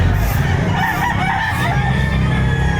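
A rooster crows close by while chickens cluck around it, loud and continuous against outdoor background noise at a chicken market in Batangas.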